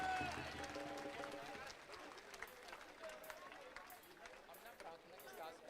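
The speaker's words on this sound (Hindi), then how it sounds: "तालियां नहीं रुकनी चाहिए, चल जोरदार तालियों से तालियां" Applause from a crowd at a prayer gathering with Bollywood guests, dense continuous clapping under a hubbub of voices, loudest at first and then settling to a steady wash while people talk over it.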